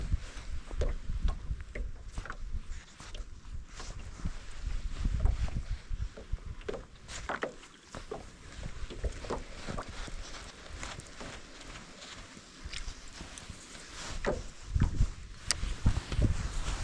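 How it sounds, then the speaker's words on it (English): Wind gusts over a small boat on a pond, a continuous rushing and buffeting noise with faint knocks and water movement, no voices. "Wind's blowing us right to shore here."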